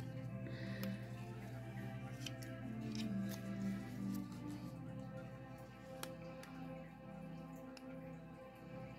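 Small scissors snip a nail polish strip, giving a few faint, sharp clicks at irregular intervals over a quiet, low background hum.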